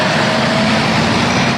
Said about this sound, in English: Loud dump trucks common along 56th Street